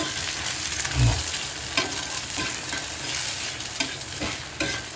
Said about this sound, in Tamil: அது இப்போ என்ன பண்ண முட்டையை அப்படியே கலக்கிடணும். அதெல்லாம் உதிரியாகும், பொரியல் மாதிரி வரணும்.